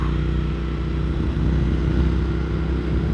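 A Kawasaki Z900RS motorcycle engine drones steadily and fairly loud throughout, a constant low rumble with no clear rise or fade, and no voices.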